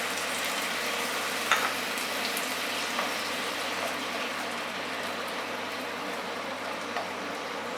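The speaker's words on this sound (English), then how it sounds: "So add in the sauce we made, so the garlic and spring onions." Sauce with garlic and spring onions hissing and sizzling steadily in a hot pan, a constant broadband fizz with a few faint clicks, close and fairly loud.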